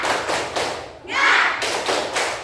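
A classroom group claps out a rhythmic spirit clap in steady repeated bursts, close and fairly loud, with a brief swell of voices partway through.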